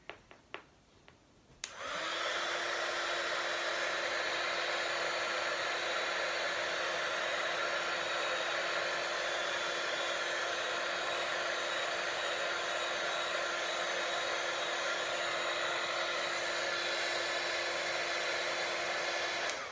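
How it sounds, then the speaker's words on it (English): A crafting heat tool blasts hot air to dry paint on a card, starting abruptly after a few clicks and then roaring steadily and loudly with a constant whirring hum, with no talking. "Now I'm going to dry this with my heat tool."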